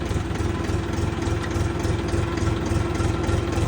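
Steady low rumble of a Bulat 244 tractor's KM385 diesel engine idling close by, with an even chugging pulse throughout and no voices.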